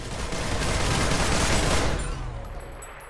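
Walker anti-infantry turret firing in PlanetSide 2, a dense sustained burst of rapid gunfire for about two seconds that cuts off abruptly, leaving a quieter fading tail.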